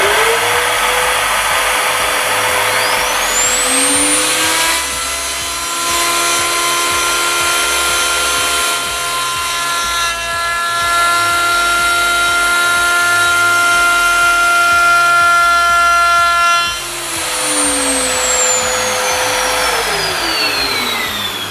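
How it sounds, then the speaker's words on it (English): A router on a dovetail jig spins up with a rising whine, then cuts a scribing pass along a wooden edge, holding a steady loud motor tone for about twelve seconds before winding down. "using the router, we want to do a scribing cut along this edge to prevent any tear out in later cuts"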